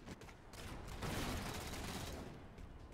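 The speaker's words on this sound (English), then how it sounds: "someone's shooting at me from over" Dense, continuous gunfire from the Halo video game during a multiplayer Slayer match, steady overlapping bursts and shots that stay loud for the whole stretch with no talking over them.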